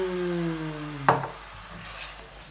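Almond chicken sauce sizzling in a pan as apple vinegar is stirred in, with a brief clatter of utensils and a soft frying hiss after a low hum.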